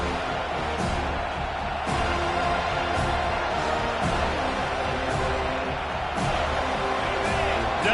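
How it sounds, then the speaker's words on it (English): A stadium crowd in a Madden football video game roars steadily on a defensive third down, a dense continuous wash of cheering with occasional thuds beneath it. "Decibels rising as the crowd gets behind this defense on third down."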